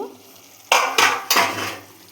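Chicken curry is stirred in a pan, Bengali style, right after the lid comes off: three sharp scraping strokes of a spoon against the metal over a steady close sizzle of frying.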